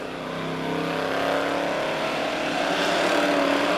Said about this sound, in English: Mike Piercy coming out of turn number 4. White flag in the air, 1 more lap to go for the 9 of Mike Piercy.